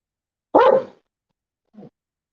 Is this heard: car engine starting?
no